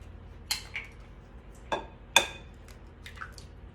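Eggs cracked against a bowl while mixing banana bread batter: a few sharp, fairly faint taps and cracks spaced over a few seconds, with small wet clicks in a quiet kitchen.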